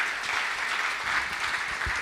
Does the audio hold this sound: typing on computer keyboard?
no